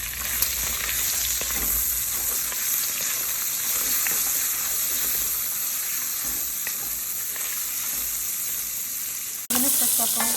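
Crumbled hot Italian sausage sautéing in bacon fat, a loud continuous sizzle with faint stirring, ending in an abrupt louder burst of hiss.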